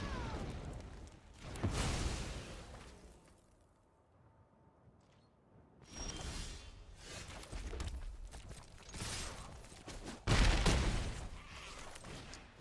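Fiery spell effect for Fire Prophecy in the MTG Arena card game: a series of booming, crackling bursts and whooshes, with a quiet gap midway before more loud impacts.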